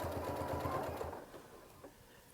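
A sewing machine stitches a long seam with a fast, even mechanical whir and rhythmic needle thumps, close and clear, then slows and stops near the end.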